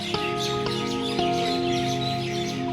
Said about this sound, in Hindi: भाई इतना बढ़िया चिड़ियाओं की आवाज़ आ रही है ना पीछे।